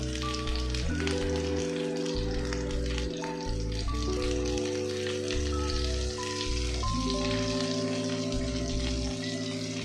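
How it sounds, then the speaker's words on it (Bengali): Bitter gourd and potato fry in a pan with salt and turmeric, a continuous close sizzle and crackle that holds steady throughout with no talking. "এরপর এটাকে কিছুক্ষণ ভেজে নেব। কম আছে, মিনিট 5 এটাকে ভেজে নিতে হবে।"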